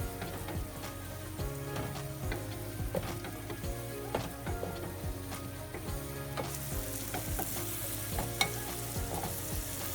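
Onions and spices frying in butter in a kadai for restaurant-style paneer curry, a steady close sizzle with repeated scraping and stirring knocks, no voices.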